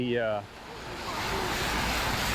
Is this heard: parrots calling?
no